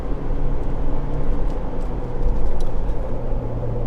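Ford Bronco Base Sasquatch cruising along a road, a steady loud low rumble of engine, tire and road noise from inside the cabin, continuous with no talk.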